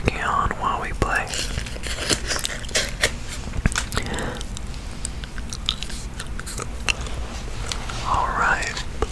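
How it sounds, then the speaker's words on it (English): Peppermint Cobalt gum chewed close to the microphone in a wet, clicky, rhythmic chomping, accompanied by whispering and quiet breathy mouth sounds, with the whispered voice rising at the start and near the end. "I've got some peppermint cobalt gum I'll be working on while we play."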